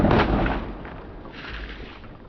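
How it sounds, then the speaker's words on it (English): An air-pressure bottle rocket pops its cork with a sharp, loud burst and whooshes away, the noise decaying over a couple of seconds. "When the pressure gets great enough, eventually it'll burst that cork off and send this thing flying."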